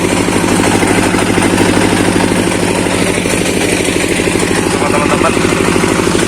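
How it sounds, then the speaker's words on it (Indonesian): A 10 kVA diesel generator runs at a small outdoor celebration, a loud, steady mechanical chug with a fast even pulse throughout, close by, with a voice talking over it. "Nyandi pakai diesel 10 kVA dulur."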